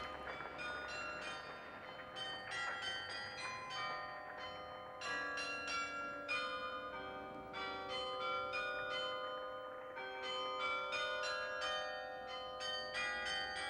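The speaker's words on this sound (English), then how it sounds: "Cardinal Van Rooij ordered the chimes of Antwerp Cathedral to play the Hatikvah." The carillon of Antwerp Cathedral rings out a slow melody, bright sustained bell tones overlapping and echoing one after another, clear and unaccompanied.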